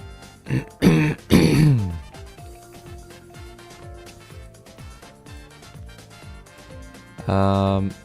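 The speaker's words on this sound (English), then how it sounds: "I wish I wasn't coughing." A man coughs and clears his throat several times in short bursts near the start, with a final rough throat-clearing at the end, over soft background music.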